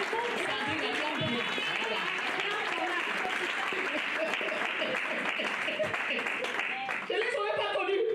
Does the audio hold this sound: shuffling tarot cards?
no